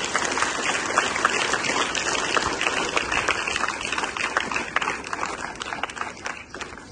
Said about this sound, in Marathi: त्यासाठी जोरदार एकदा टाळ्या वाजवा